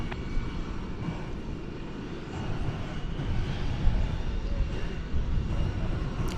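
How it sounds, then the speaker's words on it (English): Jet engines of an Airbus A321 airliner at DFW Airport give a broad, steady roar at a distance, rising slightly partway through. "It's an Airbus A321."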